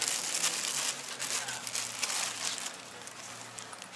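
A small plastic packet crinkles and rustles steadily as it is handled and opened, a close, continuous dry crackle with low background hum and no talking.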